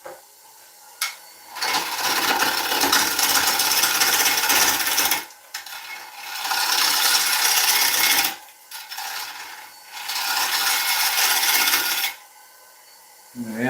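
A wood lathe spins a wooden bowl blank just under 700 RPM while a tool cuts it, making loud sustained rasping, scraping passes in three long bursts separated by short pauses.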